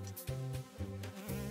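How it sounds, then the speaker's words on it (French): A bee buzzes around cherries in a pollination scene, a droning hum that pulses in short repeated swells, fairly soft and near. "Ah non, l'abeille!"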